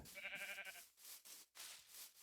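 A sheep bleats once in a Minecraft-style game, a short, clear, wavering call at the start, followed by faint ambient noise with no talking.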